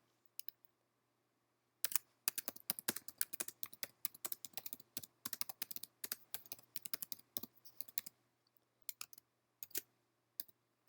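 Someone types a sentence on a computer keyboard, close and crisp, with quick irregular bursts of key clicks after a brief quiet start, pausing and resuming toward the end.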